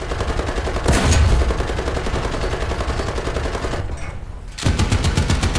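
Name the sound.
tank machine gun firing many rounds, from a video game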